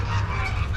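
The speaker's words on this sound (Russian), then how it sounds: "Ну вот сколько у соседей гусей." Neighbours' geese on a rural farmstead honk in a short nasal burst, close and fairly loud.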